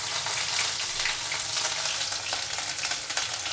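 Green chili and ginger hit hot oil already holding mustard seeds in a pan, giving a loud, steady close sizzle with crackling spits for a few seconds.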